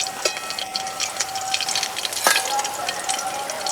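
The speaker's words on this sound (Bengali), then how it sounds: "বাকি মাছগুলো এইভাবে হালকা করে ভেজে নেব" Koi fish frying lightly in oil over lowered heat, a dense, continuous crackling sizzle with a brief sharper pop near the end, loud and close, no speech.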